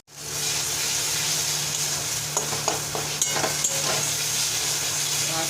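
Steady close sizzle of pointed gourd mash with turmeric frying in a pan, charred gourd, garlic, green chilli and tomato in the mix, broken by a handful of scraping stirs and light clicks partway through.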